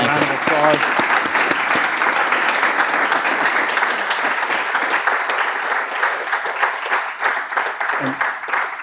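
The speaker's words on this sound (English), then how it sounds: "Join me in giving him a round of applause." Sustained audience applause fills the hall after an evening lecture in a constitutional lecture series, dense and steady, with a brief voice heard near the start and another near the end.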